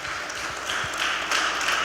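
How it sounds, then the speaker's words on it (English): Brief scattered clapping from a small audience at a talk with the executive chef of Ichi Sushi, celebrating the restaurant's opening anniversary; a short, moderately loud patter lasting under two seconds. "You can clap for that."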